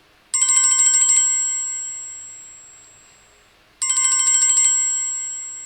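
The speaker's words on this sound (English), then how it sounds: "That's my ringtone when I'm about to go to school." A bright electronic phone ringtone plays in two identical short bursts of rapid repeated tones, each about a second long, separated by a few seconds of fading ring-out, loud and clear with no talking.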